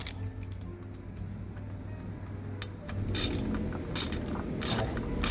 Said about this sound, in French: on va venir serrer nos boulons